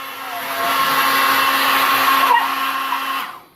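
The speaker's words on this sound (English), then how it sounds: "It's just a hair dryer." Hair dryer blowing with a steady, loud whooshing whir for a few seconds before switching off and winding down, with no talk.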